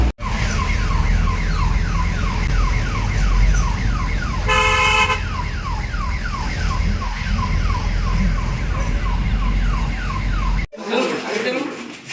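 An ambulance siren wails in a repeating two-tone pattern close by, loud and steady over road noise for most of the clip, with a brief horn toot partway through before it cuts off.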